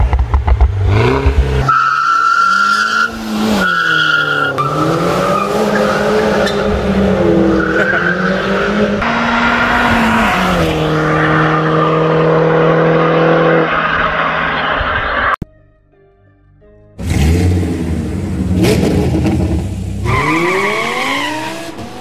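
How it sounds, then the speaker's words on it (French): A Mini Cooper S R56 with the N18 engine and JCW styling is driven hard, its engine loud and close and rising and falling through revs with squealing tires, then cutting off briefly before roaring back. "Mini Cooper S R56, moteur N18."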